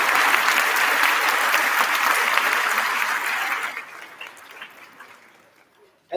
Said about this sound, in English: Let's give them a round of applause for all of their hard work in putting on this event today.